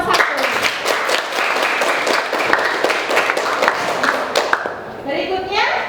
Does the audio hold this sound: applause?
yes